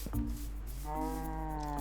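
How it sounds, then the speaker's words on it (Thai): Minecraft sheep bleating: a short call, then a longer drawn-out bleat with a clear pitch, heard fairly close over a low background rumble with no talking. "โอ้แกะเต็มเลย"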